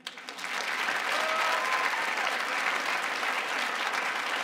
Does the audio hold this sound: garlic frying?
no